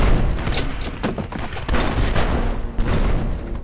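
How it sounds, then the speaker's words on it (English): A stray grenade bursts in Fallout: New Vegas with loud, close booming blasts and thuds that roll through the whole few seconds, layered over dense gunfire-like crackle and rumble. "and then get hit by a stray grenade."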